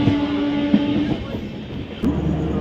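The Jagannath Express, an LHB train on the Kolkata to Puri route, rumbles along the rails in a steady onboard roar with faint clicks, heard from inside a carriage.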